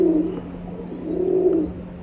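Nagina pigeons coo in a loft, a low, soft, rolling call repeated twice at close range over a faint steady hum, with no voices.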